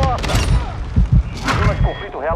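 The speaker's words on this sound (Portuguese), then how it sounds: "Estou levando tiro!" Gunfire from the video game Call of Duty: Modern Warfare II, set during a sniper match with the SP-X 80, with a few close thumping shots mixed into game radio chatter and voices.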